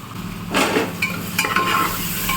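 Onions sizzle in hot oil with salt and turmeric, a continuous close frying hiss marked by a couple of stirring scrapes and soft clinks of a spoon on the pan.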